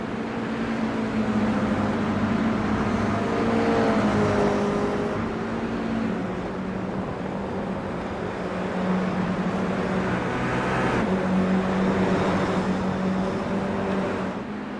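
Race car engine in a racing video game at Zandvoort, a continuous loud droning roar with shifting pitch as the car accelerates and swings through turns, steady throughout with no speech.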